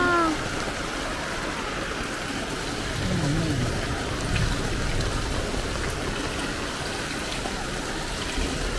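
Steady rain falls outdoors around a home, with chickens sheltering nearby, making a continuous broadband hiss and patter at moderate, even loudness throughout, with no distinct voices standing out.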